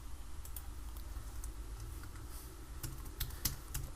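Someone types on a computer keyboard during HVAC cooling coil software work. Light, irregular key clicks sit over a low background hum, with a few sharper taps near the end and no speech.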